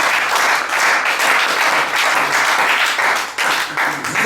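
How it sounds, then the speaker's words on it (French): A church congregation at a French-language sermon bursts into sustained, loud applause, steady clapping filling the space for the full stretch without pause. "Est-ce qu'on peut acclamer pour le Seigneur?"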